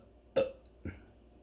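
Two quick burps from someone drinking carbonated beer while using it to chase bourbon; a louder, sharper burp comes first, then a shorter, softer one, both close and isolated against a quiet background.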